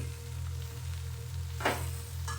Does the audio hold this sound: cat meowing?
no